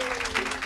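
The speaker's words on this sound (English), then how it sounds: "How about a round of applause for Laura Siddall?" An audience at a Kona breakfast show for triathlete Laura Siddall gives a brief, loud, dense burst of applause, with voices mixed in under the clapping.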